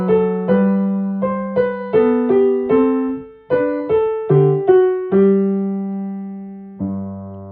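Piano plays Bach's Minuet in G, BWV Anh. 114, with smooth connected phrasing: a steady run of clear melody notes over a lower line, ending on a held chord.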